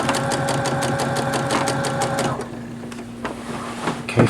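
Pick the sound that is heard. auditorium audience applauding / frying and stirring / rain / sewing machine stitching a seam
sewing machine stitching a seam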